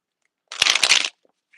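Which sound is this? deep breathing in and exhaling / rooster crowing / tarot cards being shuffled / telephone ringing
tarot cards being shuffled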